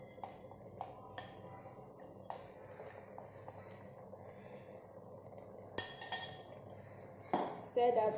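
Egusi soup with bitter leaf being stirred in a cooking pot, marked by a few sharp clinks and scrapes of a spoon against the pot, close and fairly faint, with a voice talking quietly underneath.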